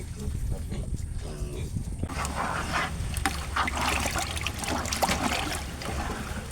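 Large piglets being fed on the farm, their mother's milk no longer enough, with a busy wet stream of snuffling, slurping and splashing close by that grows louder and denser after the first couple of seconds.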